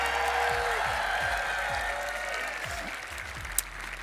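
Audience at a cosplay contest applauding a cosplayer, a sustained wash of many hands clapping in a hall, steady and fairly loud, with one sharp knock near the end.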